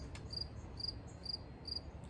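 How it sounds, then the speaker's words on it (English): A cricket in a garden chirps in steady, evenly spaced pulses, thin and high, over a faint low outdoor hum, with no one talking. "There's a cricket."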